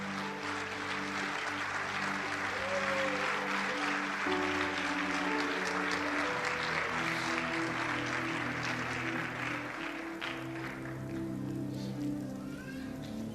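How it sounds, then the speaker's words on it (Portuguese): A church congregation applauds during a Portuguese-language sermon, a sustained wash of clapping with music or organ tones beneath it, continuous and fairly loud for over thirteen seconds. "Tome seu assento aplaudindo Jesus,"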